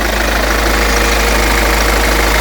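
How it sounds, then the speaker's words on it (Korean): A 2015 Hyundai Grandeur HG engine idles steadily with the engine bay open, a close, continuous low hum and rumble with no talk over it. "엔진 소리 정말 정확하게 들리고 있고"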